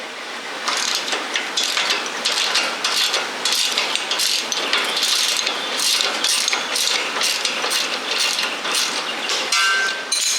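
A hand ratchet wrench turns a bolt while fitting new tires and shocks on an MB200 mini bike, rapid clicking pawl strokes repeating steadily and close up for about ten seconds with no talking.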